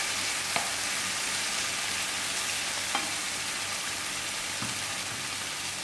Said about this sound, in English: Mix up the tin fish with the chutney